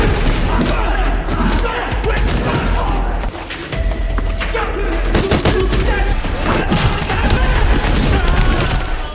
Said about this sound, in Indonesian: sedangkan Michael sendiri terkena tembakan.